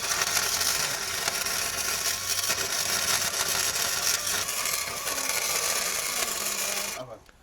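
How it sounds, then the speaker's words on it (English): Steady, close welding on a 2.5-ton military truck: a harsh, continuous crackling hiss that holds evenly for about seven seconds before cutting off abruptly. "I'm about to weld."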